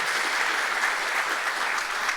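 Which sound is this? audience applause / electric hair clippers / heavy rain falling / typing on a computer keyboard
audience applause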